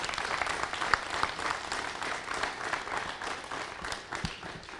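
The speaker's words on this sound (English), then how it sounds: "let's give one more round of applause to Sergeant Tony Krogh here this morning" A studio audience gives a sustained round of applause for Sergeant Tony Krogh during a law enforcement salute on a radio show, with steady dense clapping throughout and no voices over it.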